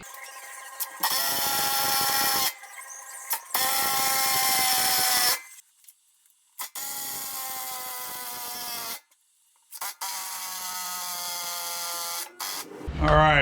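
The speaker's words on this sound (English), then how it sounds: "I'm going to shoot some lag bolts in there" Cordless power drill driving lag bolts into a wooden tool cart, several loud high whirring runs of a few seconds each with pauses between, the motor bogging under load, while someone talks in the gaps.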